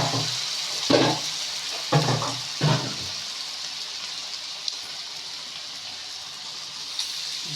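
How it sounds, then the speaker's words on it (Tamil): Water splashes into a cooking pan of cauliflower and egg in three short pours, followed by a quieter steady hiss. "ஸோ அதனால் நம்ம லைட்டாக கொஞ்சம் தண்ணி ஊற்றிக்கலாம்."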